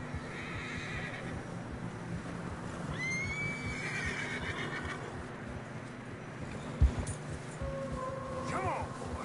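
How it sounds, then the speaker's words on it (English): In a snowy stretch of a Red Dead Redemption game scene, a horse lets out a rising whinny and later another short neigh, over a low ambient bed with a soft thud and hoof movement, voices speaking between sounds. "Horses are struggling"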